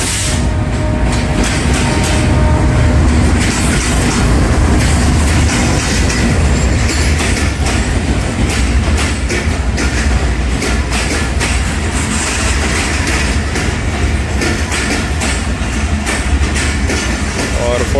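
A Pakistan Express passenger train led by a G40 locomotive passes Padidan railway station, producing a steady, loud rumble of wheels and rolling stock with clattering rail noise throughout, a voice talking faintly underneath.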